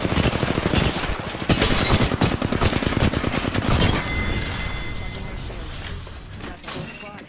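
Rapid automatic gunfire in the Apex Legends video game, a dense, loud volley of shots over several seconds that thins into scattered effects, with voices talking over it.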